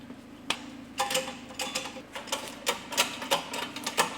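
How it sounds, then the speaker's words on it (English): Sharp, irregular metallic clicks and ticks as a Ford Focus 1.8 TDCi wheel hub is pressed into its bearing and flange assembly, a quick series of close, distinct snaps over a low steady hum. "I'm now going to press the hub onto the actual bearing and flange assembly."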